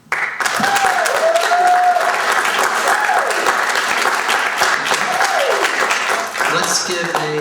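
A student audience at a university student body presidential debate gives a sustained round of applause for the candidates, loud steady clapping with whoops and voices mixed in throughout.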